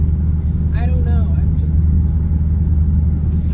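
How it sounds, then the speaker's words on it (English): Steady low rumble of a car engine and road noise heard from inside the cabin while cruising, constant and droning, with a person briefly talking over it. "If you're listening to the car, it's such an over-the-road car."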